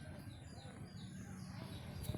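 A racing pigeon coos softly in a loft, a faint low murmur that pulses on and off against quiet background noise.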